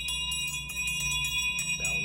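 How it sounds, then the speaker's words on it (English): A bell rings out in quiet woods during a spooky Halloween story, with sharp repeated strikes and sustained ringing tones, clear and near. "she stops, because she hears a bell ring."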